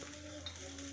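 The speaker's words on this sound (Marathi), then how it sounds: "तव्यावर आपण हे टाकून घेऊया आणि 2 मिनिट याला होऊ देऊया।" Bread cheese pizza cooking on a hot griddle gives a brief, steady low sizzle with faint stirring noise, no voices.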